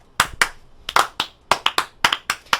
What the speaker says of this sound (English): starting a slow clap is always a little bit challenging